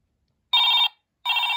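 Telephone ring in a children's toy setting, two short bright electronic ring bursts, close and loud, separated by a brief silence.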